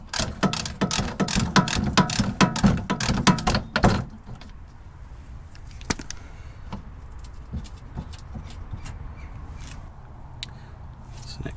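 A hand ratchet fitted with a 10mm socket works loose wheel arch liner bolts, giving a fast run of sharp, close pawl clicks for about four seconds, then quieter scattered taps and handling sounds.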